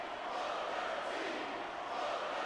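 Crowd noise from a wrestling event in WWE SVR, a dense, steady roar of many voices cheering and shouting. It sounds distant and moderately loud and fills the whole moment without a break.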